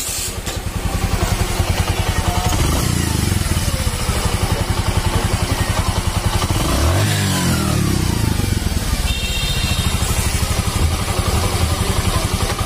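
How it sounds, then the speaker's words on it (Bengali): A motorcycle engine running after a valve repair, idling steadily and loud throughout with a brief rise in revs near the middle, heard alone without talk. "এখন আমরা এখানে ডেলিভারি দিতে এসেছি, আর স্টার্ট দিয়ে আপনাদের দেখাবো।"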